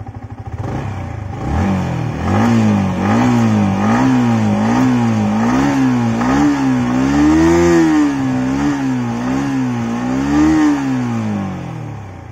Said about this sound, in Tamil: பைக்கை ஸ்டார்ட் பண்ணி பைக்கோட எக்ஸாஸ்ட் நோட் எப்படி இருக்குன்னு